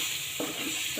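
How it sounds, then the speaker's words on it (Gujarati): Spices and idli sambar masala being stirred in a pan, a steady close sizzle with soft scraping of the spoon throughout, no voices. "હવે આને મિક્સ કરશી"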